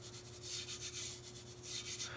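Hand rubbed back and forth over a wood surface to burnish it, giving soft, close, repeated dry rubbing strokes at low volume with no talk.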